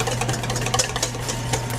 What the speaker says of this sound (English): you do want to constantly be whisking it, so this way you don't get any of the cooked eggs on the edges